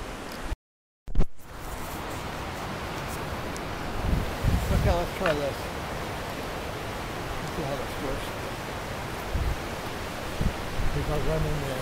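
Steady wind rushing over an open river valley on the Santa Cruz River, a broad, even roar with occasional gusts and faint rustling, close to the microphone, with a brief dropout near the start.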